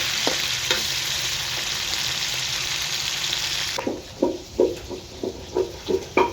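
Frog pieces deep-fry in hot oil with a loud, continuous crackling sizzle, then the hiss drops away to leave a rhythmic series of soft scraping stirs and clunks, with no voices.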